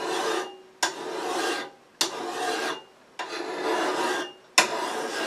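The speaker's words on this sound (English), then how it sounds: "You always push the file away from you." A metal file pushed across a workpiece on a lathe, with four long rasping strokes separated by short pauses, close and clear with no talking.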